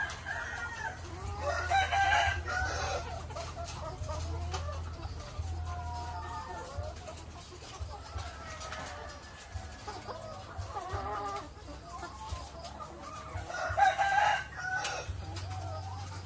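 Laying hens inside poultry layer building number 2 cluck and cackle in a steady, fairly faint chorus, with a rooster crowing several times at moderate distance over a low machine hum.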